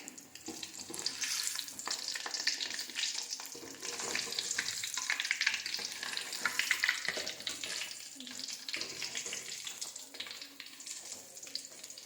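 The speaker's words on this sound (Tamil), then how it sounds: "பழம்பூரியை மாவில் முக்கி எண்ணெயில் போட்டாச்சு." Palampuri fritters, ripe plantain dipped in batter, sizzle and crackle in hot oil in a steady, busy frying hiss that fills the whole stretch, with occasional stirring and faint background sounds.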